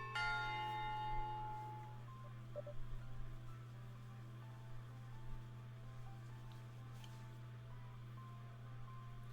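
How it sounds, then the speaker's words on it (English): A school bell rings for recess in a visual novel game, a sustained metallic tone that starts strongly and slowly fades over a steady low electronic hum. "And there goes the bell."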